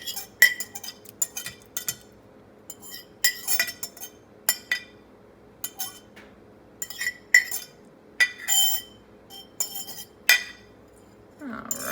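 Repeated light clinks of a utensil against a plate and glass bowl as mashed fruit is scooped across, scattered taps in irregular bursts, close and fairly quiet with no talking.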